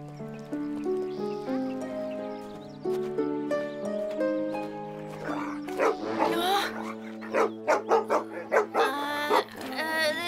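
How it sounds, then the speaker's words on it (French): A dog barks in a quick series of yips over continuous music in a French animated cartoon, the barks loud and close near the end. "Gentil, le chien-chien."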